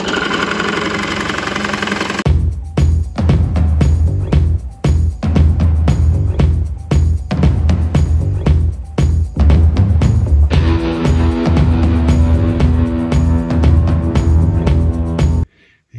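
A drill at about 700 RPM boring into clamped wood over a backer board, with a steady motor hum cut by rapid repeated grinding bites into the timber, loud and close, later shifting to a smoother tonal whine before stopping.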